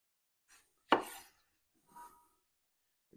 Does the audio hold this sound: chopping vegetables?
yes